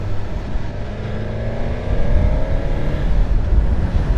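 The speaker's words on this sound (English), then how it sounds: "I'm also aboard my new Suzuki gsx-s 1000 GT." Suzuki GSX-S 1000 GT motorcycle engine on the move at a low power setting, a steady droning hum with rushing wind noise that swells slightly partway through, loud and continuous with no talking.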